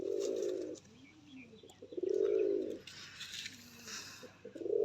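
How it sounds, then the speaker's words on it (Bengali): Close cooing of old-line desi high flyer (Giribaz) pigeons, three deep rolling coos separated by pauses, with quieter murmurs and some faint background sounds between them. "গিরিবাজ পায়রা, ওল্ড লাইনের দেশি হাই ফ্লায়ার"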